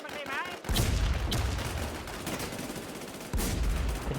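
Gunfire from a sniper rifle in a shooter video game: two loud, sharp reports about three seconds apart, each followed by a long rumbling tail. Faint chatter comes before the first shot.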